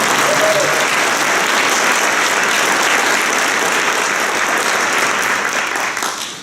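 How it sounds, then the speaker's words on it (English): An audience gives a loud, sustained round of applause at a civic welcome event, dense clapping that continues steadily before tapering off at the end. "I'm actually going to ask the audience to give you another round of applause"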